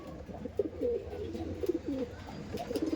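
A Fulshira pigeon coos softly in repeated low, rolling phrases, close by, against a quiet background hum.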